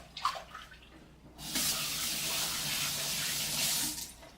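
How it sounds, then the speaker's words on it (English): Hot water runs steadily from a tap over washing hands in an outdoor ribs cookout setting, a continuous close splashing gush after a brief quieter moment with faint sounds. "Wash my hands in my nice hot water."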